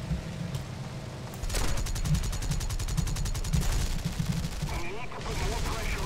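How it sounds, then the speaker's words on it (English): 20 mm gun firing from a Japanese aircraft in War Thunder, rapid repeated shots in a steady stream over loud engine drone, with a player talking over the gunfire. "Our gunner's opened up. So that's just our 20 right now firing."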